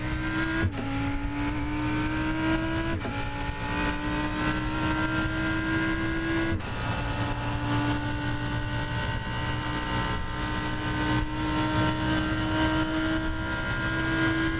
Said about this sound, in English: I do like the sound of his Lamborghini.